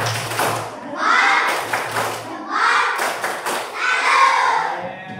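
Schoolchildren perform the tepuk salut clapping chant in a classroom, with sharp hand claps interleaved with voices chanting in groups, the rhythm coming in repeated bursts.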